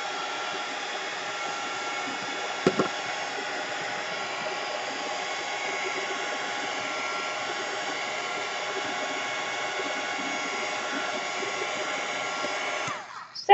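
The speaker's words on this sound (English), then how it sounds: "Since I have a dryer, we're gonna dry." A hair dryer blows steadily to dry gel pen ink on paper, a constant whooshing motor roar at close range with a brief knock early on, running for over ten seconds before switching off.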